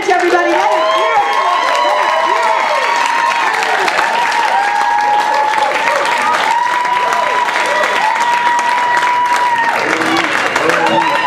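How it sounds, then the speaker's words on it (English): Comedy club crowd applauding and cheering for a comedian, loud dense clapping with whoops and voices rising over it throughout. "applause for Chloe LaBranche, everybody."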